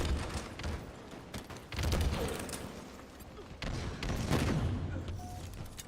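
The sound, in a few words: gunshots in a video game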